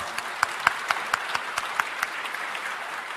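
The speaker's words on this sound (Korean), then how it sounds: "다시 한번 뜨거운 박수 부탁드립니다" Church congregation clapping during a Sunday service, a dense, steady wash of many hands with a few louder, sharper claps standing out near the front, continuing evenly without speech.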